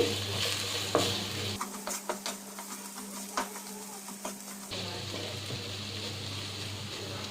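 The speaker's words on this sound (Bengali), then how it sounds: "এর মধ্যে যে শুটকি মাছটা ভেজে রেখেছিলাম সেই শুটকি মাছটা দিয়ে দেব। ভালোভাবে নাড়াচাড়া করে নিচ্ছি।" Arum lobe and fried dried fish being stirred in a pan, a run of close, repeated scraping and clattering strokes over a gentle background sizzle, with no talking.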